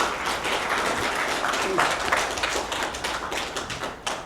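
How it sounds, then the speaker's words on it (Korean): Audience applause at a Korean peace and unification symposium after a sung performance, close, dense clapping with sharp individual claps, steady at first and thinning slightly toward the end. "힘찬 박수 다시 한번 부탁드립니다"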